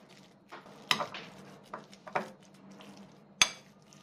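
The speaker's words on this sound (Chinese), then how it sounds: "然后再放一些油，一些淀粉，再将所有的材料搅拌均匀。" Bitter melon filling mixed with oil and starch is stirred in a bowl: soft scraping broken by a few sharp, close utensil clinks against the dish, irregularly spaced.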